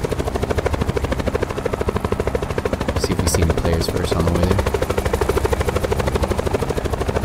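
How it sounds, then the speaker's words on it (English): A helicopter in Call of Duty Blackout flies with a loud, fast rotor chop that pulses steadily and close throughout, while a player talks over it. "Let's take this chopper and head out."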